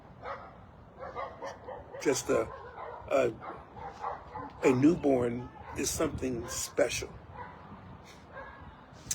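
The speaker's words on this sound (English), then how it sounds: "Not my dogs, but people pass through, and of course they got the dog's attention." Dogs bark in short yipping bursts, set off by people passing by, mixed in with a person talking close by.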